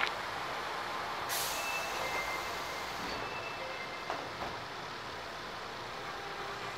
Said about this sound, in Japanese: まもなく扉が閉まります。